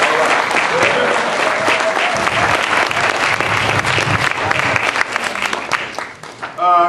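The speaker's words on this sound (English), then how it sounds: "Let's give the panel members another round of applause." Loud, sustained audience applause for panel members after a dialogue on outcomes of Black males in urban institutions, a dense crowd wash with voices mixed in that tapers at the end.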